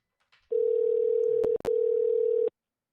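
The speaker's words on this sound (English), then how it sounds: "I'm gonna try to get my nigga Snackz on the phone though." A telephone dial tone hums steadily for about two seconds while a call is being placed, briefly broken by a couple of sharp clicks midway before it resumes and stops.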